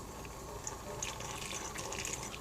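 Tap water runs steadily over raw shrimp as they are deveined at a kitchen sink, a faint, even splashing hiss with no talk.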